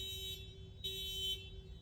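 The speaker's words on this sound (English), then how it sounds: "Car alarms." A car alarm sounding outside, a steady electronic tone repeating in bursts of roughly half a second, moderately faint and heard alone with no talk.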